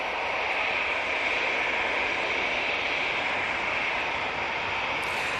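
An airliner departs Manchester Airport for Alicante, a steady, loud jet roar that holds constant throughout with no voices over it.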